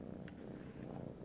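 A kitten purrs in a low, continuous rumble, close and soft, with no talk over it.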